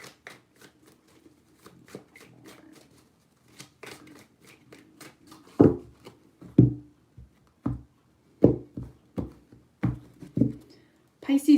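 Tarot cards are shuffled by hand in repeated crisp slaps and riffles, close and sharp, in uneven bursts, with a voice speaking softly underneath at times.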